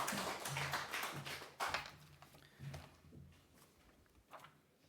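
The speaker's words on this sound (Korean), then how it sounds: "큰 박수로" A church congregation at a Sunday service claps to welcome a pastor to the pulpit, the clapping faint and uneven with scattered bursts that thin out into a few quiet taps.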